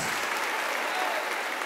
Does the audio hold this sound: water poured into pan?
no